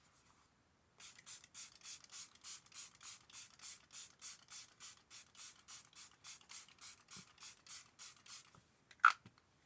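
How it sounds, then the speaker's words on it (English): Wet n Wild cooling face and body mist sprayed in a rapid series of about thirty short, even spritzes, quiet and close, followed by one sharper click near the end. "So I'm going to go ahead and spray my face. It's just the Wet n Wild. Do the spritz cooling face and body mist."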